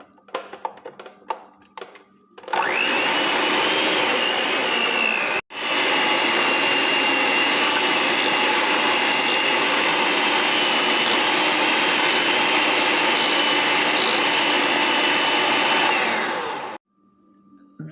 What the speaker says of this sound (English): first we're gonna beat the cream cheese, and I'm using a stand mixer for this.